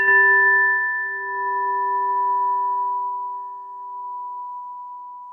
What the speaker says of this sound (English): I'm going to lead into her with our Tibetan bell before she goes into the invocation.